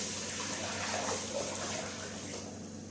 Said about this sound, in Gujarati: થોડુંક એટલું પાણી નાખશું.